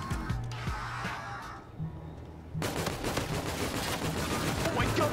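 Rapid fully automatic fire from the Hornet gun in Call of Duty: Infinite Warfare, a dense stream of close, loud shots that swells in the second half, mixed with game noise.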